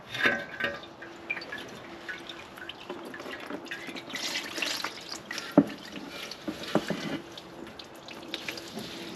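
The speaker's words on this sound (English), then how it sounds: "There's still going to be a lot of fluid that drips off of the transmission." Transmission fluid drips and trickles steadily from the underside of a 2011-2016 Toyota Sienna's transmission into a catch pan, a close, continuous liquid patter with a few sharper drops and no talking.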